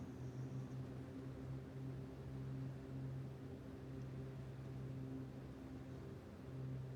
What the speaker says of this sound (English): I'm going to increase engine revs by firewalling my